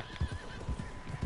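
In Red Dead Redemption 2, a horse whinnies with a wavering, drawn-out call over a soft, rhythmic series of hoof clops, moderately loud and with no talking.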